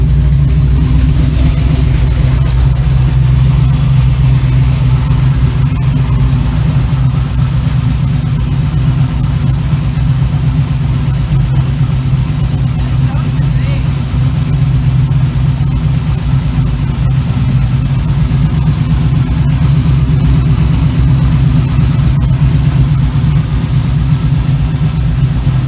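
A 1936 Chevy Coupe engine running steadily in neutral during a brake roll test, a loud, constant low rumble close to the microphone with no change in pace.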